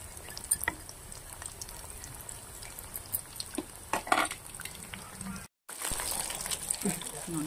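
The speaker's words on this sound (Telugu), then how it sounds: "ఇలాగా క్రిస్పీగా రెడ్ కలర్లో ఫ్రై అవ్వాలండి తీసేసుకున్నప్పుడు" Chicken pieces deep frying in oil until crispy and red, a steady crackling sizzle with scattered pops, stirring, and a brief dropout before the frying resumes louder.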